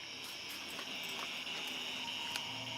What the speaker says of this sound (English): Could it be like a cicada or something?